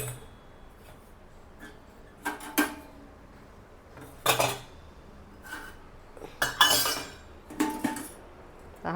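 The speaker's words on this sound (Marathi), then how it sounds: "आता मांडणीमधली जी काही भांडी आहेत ती काढते" Copper pots and vessels being taken out of a kitchen rack, a series of separate metallic clinks and clanks, some sharp and some ringing, spread across several seconds with quiet gaps between them and no talking.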